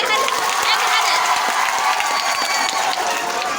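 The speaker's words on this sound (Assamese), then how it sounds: "সমূহ দৰ্শকক শ্ৰদ্ধাৰে অনুৰোধ জনাইছোঁ, কমিটিখনৰ কাৰণে এটা হাত চাপৰি বজাই যায়।" An audience at an Assamese comedy stage show claps steadily and densely for the organizing committee, a continuous close wash of applause with a faint crowd murmur beneath it.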